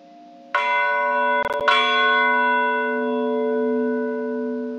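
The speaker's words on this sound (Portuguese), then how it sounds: "Através do badalar dos sinos" Catholic church bells ring in two loud strikes, each leaving a long, rich humming decay that sustains to the end.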